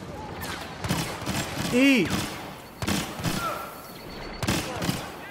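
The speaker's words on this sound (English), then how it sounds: "Why are our turrets shooting at each other?" Turrets firing in Star Wars Battlefront, rapid blaster bursts in repeated volleys with electronic whines and a rising sweep, a player talking over the fire.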